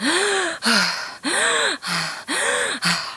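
A person demonstrates a breathwork technique from a group therapy workshop, drawing three loud, quick, close inhales, each followed by a short, sharp exhale, in a steady rhythm.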